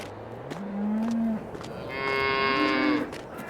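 Dairy cows lowing in a barn in the video game Farming Simulator 22, two drawn-out moos in sequence, the second higher and more nasal, fairly close and clear with no talk.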